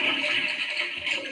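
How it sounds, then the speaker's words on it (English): A toilet flushing, a loud rushing hiss of water that holds steady throughout with a slight gurgle, heard close and alone. "all he hears on the other end is a toilet flushing"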